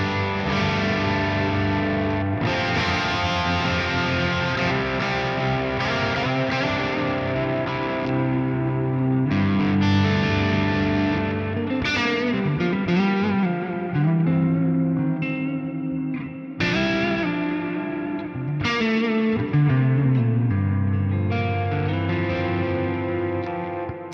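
Distorted electric guitar through a Neural DSP Quad Cortex amp modeler plays chords and riffs with heavy amp tone, reverb and delay trails, loud and continuous without any voices.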